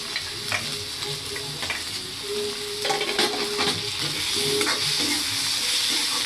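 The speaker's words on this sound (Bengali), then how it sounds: "এগুলো ভেজে নিতে হবে, সবগুলো ভেজে নিতে হবে।" Chopped tomato and green chillies fry steadily in a pan with garlic paste for a sea popa fish curry, a continuous sizzle broken by occasional spoon stirs and scrapes, close and fairly loud throughout.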